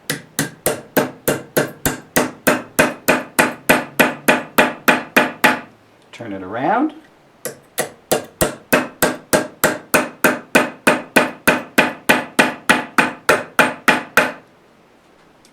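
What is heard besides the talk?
hammering copper sheet to form a shell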